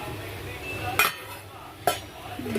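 A metal tiffin container lid clinks shut over fish with slit green chillies, two sharp close metallic taps a second apart against faint kitchen background noise.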